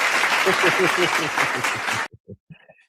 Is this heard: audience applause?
yes